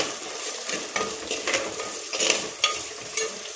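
Onions and tomatoes fry in a pan for chow chow sambar, giving a steady crackling sizzle with small scraping stir strokes every half second or so, close and moderately loud, with no talking.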